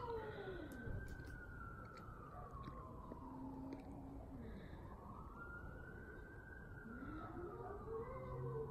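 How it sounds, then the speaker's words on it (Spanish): Long, wavering yowls from fighting cats rise and fall in slow, siren-like swoops, continuing steadily over a low background rumble. "Tenía tiempo que no escuchaba unos gatos así."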